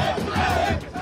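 NCP party workers cheer in celebration outside the party office in Mumbai, a loud, dense crowd roar of shouting voices that stays continuous for about a second.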